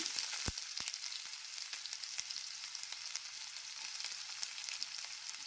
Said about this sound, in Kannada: ಎಣ್ಣೆಯಲ್ಲಿ ಈರುಳ್ಳಿ ಸಾಫ್ಟ್ ಆಗೋ ತನಕ ಈ ರೀತಿ ಹುರ್ಕೋಬೇಕು.